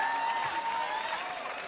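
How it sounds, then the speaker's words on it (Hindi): An audience applauding at a gathering with students, a dense continuous patter of many hands clapping at a steady level, with a faint tone running through it. "ताली बजाइए भाई"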